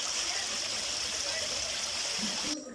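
Rainwater floods over a bridge at the Post Office crossing in Andal, a steady, soft rushing of flowing water that cuts off abruptly near the end.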